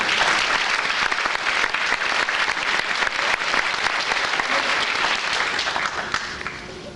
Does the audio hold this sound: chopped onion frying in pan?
no